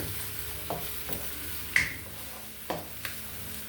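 Food fries softly in a little oil for chicken fried rice, with a low steady sizzle broken by several sharp scrapes and knocks of a utensil stirring the pan, close and without talk.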